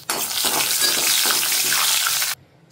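Chana dal, urad dal, mustard seeds, cumin and broken dried chilies sizzle in hot oil for a tempering, a loud hissing crackle that starts abruptly and cuts off after about two seconds.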